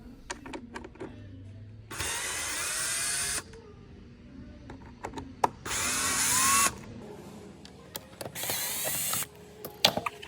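Power screwdriver backing Phillips screws out of the white plastic backing of a Toyota Prius instrument cluster, three loud whirring bursts of a few seconds each with faint clicks and handling noise between them.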